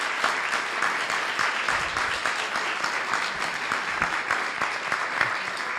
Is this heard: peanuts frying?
no